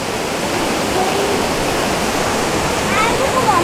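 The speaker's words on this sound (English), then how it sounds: "Look there under the waterfall, look." Waterfall on the Ingleton waterfalls trail, a loud continuous roaring rush of falling water filling the whole scene, steady and close, with faint voices over it.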